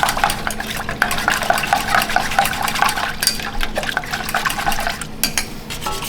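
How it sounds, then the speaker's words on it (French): A spoon stirs crêpe Suzette sauce of starch, orange and mandarin liqueur in a pan, with wet scraping and clinking against metal in an uneven rhythm, close and fairly loud, without speech. "Et on va venir lier cette sauce."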